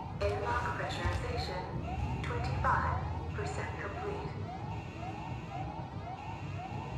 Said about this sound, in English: all I needed was another alarm just about now